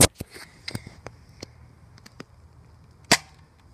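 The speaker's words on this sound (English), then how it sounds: "here's our firing test. This is after spin mod." A spin-modded Nerf Zombie Strike Side-Strike blaster fires a dart with one loud, sharp pop near the end, following a series of lighter plastic clicks and handling knocks close by.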